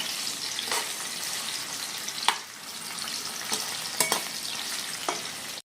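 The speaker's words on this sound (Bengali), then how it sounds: "তো বন্ধুরা আমাদের কাঁচকলা কিন্তু একদম ভাজা হয়ে গেছে" Raw green banana frying in oil in a pan, a steady bright sizzle broken by several sharp scraping stirs, close and alone without any voices.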